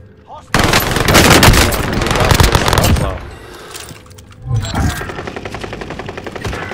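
Loud, close automatic gunfire in a video game: one long, rapid volley, a short lull, then a second sustained burst of fast shots.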